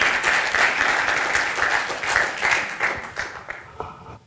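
An audience applauds a speaker named Françoise at a conference session. The clapping is steady and full, then thins out and fades over the last second.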